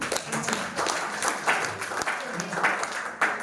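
A church congregation applauds at a youth alumni testimony gathering, a moderate round of clapping under and alongside a speaking voice.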